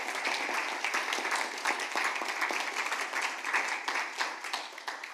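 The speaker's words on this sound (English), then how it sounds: "applause to John." Audience applause for a keynote speaker, a dense, steady patter of many hands clapping at a moderate distance throughout.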